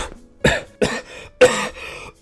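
Three harsh, separate coughs from a man, close and loud, each a short rasping burst with brief pauses between them and no talking.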